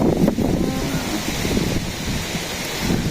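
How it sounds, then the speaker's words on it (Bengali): Strong wind blowing through a village, a steady, loud roaring rush with gusty swells that fills the whole clip, no voices. "অনেক জোরে বাতাস চলছে"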